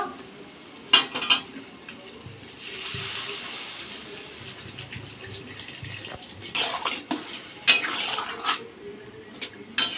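Water poured into a pan of sautéed potato and ridge gourd for a katla fish curry, a steady rushing and splashing wash that runs throughout, with a few sharp clinks and a sizzling edge.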